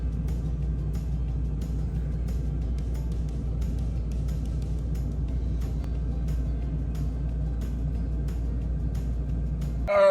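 An engine runs at a steady low idle after repair, a continuous deep rumble with faint regular ticking over it, close by and unchanging.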